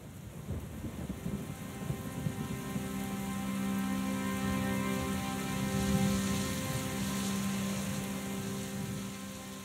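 Steady rainfall hisses across the whole spectrum, a dense, continuous wash of drops with a low rumble beneath, fairly close and unbroken, with no voices.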